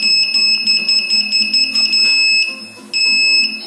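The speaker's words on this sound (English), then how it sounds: "You have this beep emitted until the transmitter is turned on." A JJRC Pro P175 drone receiver gives off a steady, piercing electronic beep while waiting for its transmitter to be switched on. The tone holds loud and continuous, breaks off briefly, then returns.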